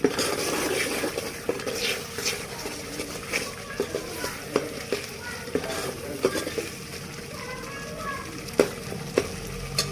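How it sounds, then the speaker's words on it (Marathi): Egg curry masala is stirred with a spoon in a pan over a steady frying sizzle, with repeated close taps and scrapes of metal against the pan throughout. "हे सर्व एकजीव करण्यासाठी त्याला परत एका चमच्याच्या साह्याने हलवून घ्या"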